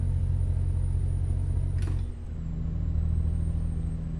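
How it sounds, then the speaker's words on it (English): A Kenworth T800 truck engine in Euro Truck Simulator 2 drones with a steady low rumble, then a brief hiss and dip before the engine noise builds again, loud and close throughout. "I think I was revving the crap out of that truck then"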